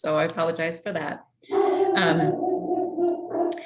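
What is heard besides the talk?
dog barking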